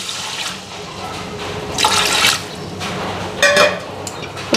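Water poured into a hot iron wok of frying spices and boiled potatoes gives a watery rush and hiss in short bursts, moderately loud and close, with no talk.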